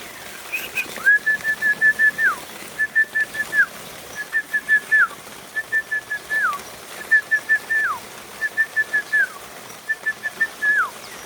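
A person whistles repeated short bursts of rising, sliding notes in a steady rhythm, roughly once a second, while day-old quail chicks chirp faintly in response between the whistles.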